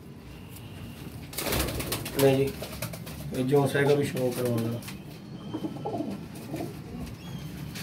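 Pigeons kept for flying coo in a loft, their low repeated calls coming in a few bursts close by while someone talks over them.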